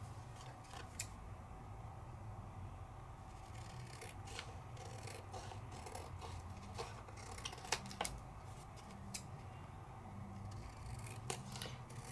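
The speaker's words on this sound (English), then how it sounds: "now let's cut them out." Scissors cut out die-cut paper pieces with a steady run of close, crisp snips and clicks over a soft background hiss, with no voices.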